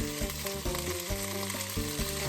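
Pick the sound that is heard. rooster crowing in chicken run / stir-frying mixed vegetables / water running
stir-frying mixed vegetables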